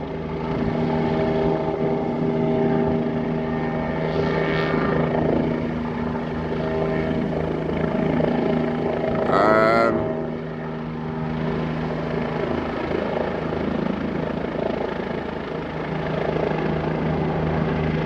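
A police helicopter flies overhead during a chase in Sweden, its steady rotor thrum and engine whine loud and continuous throughout, with a brief higher whistle partway through.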